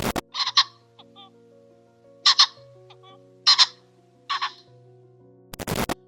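Male pheasants calling back and forth in open fields, several sharp, harsh bursts spaced apart and fairly close, with a quiet background between the calls and a loud rustle at the start and end.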